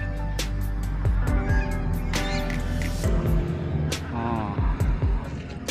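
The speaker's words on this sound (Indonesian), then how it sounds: "Ah, angsa ada di sana" Geese at a rabbit park on Gunung Kimanis give repeated, fairly close honking calls in an uneven, overlapping chatter, with other farmyard fowl noise around them.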